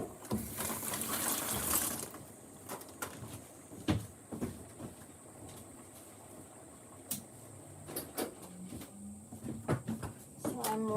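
Running water from a kitchen tap rinses something washed during food prep, a hissing gush for about two seconds, then softer splashes and clatters at close range.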